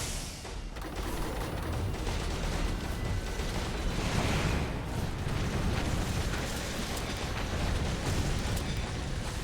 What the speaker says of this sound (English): Oh, the explosions come after it.